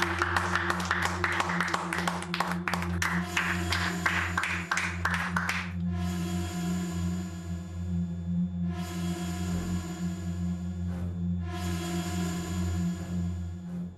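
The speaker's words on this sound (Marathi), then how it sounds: "मोठ्यानं आवाज आला पाहिजे. थांबल्या कशा टाळ्या?" An audience at a Marathi TV serial event breaks into brisk, dense clapping that fades after about six seconds, leaving a steady hum and tone beneath.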